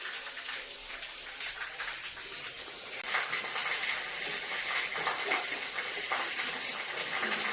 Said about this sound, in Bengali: এই দেখো এখনো জল পড়ছে